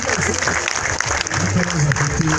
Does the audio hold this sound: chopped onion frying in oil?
no